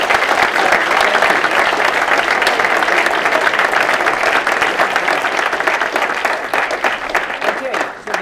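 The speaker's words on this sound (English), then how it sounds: "big round of applause for Rob" An audience at a storytelling event applauds loudly and steadily for the full stretch, a dense wash of clapping that thins slightly toward the end.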